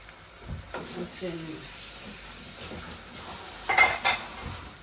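Onion, bay leaf and Bengali five-spice fry in a pan with a soft, steady sizzle, with occasional stirring scrapes and a brief voice in the background.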